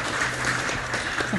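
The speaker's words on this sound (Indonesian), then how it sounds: "Kalau ini boleh tepuk tangan tadi?" An audience at a political discussion event with Ganjar applauds in a steady, dense wash of clapping for the full short stretch, with faint voices mixed in underneath.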